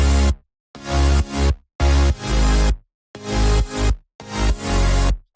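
Electronic dance drop of big supersaw chords over a rich sub bass and a distorted sawtooth bass playing low notes, loud and dense, chopped into rhythmic bursts with hard pumping gaps of silence between them.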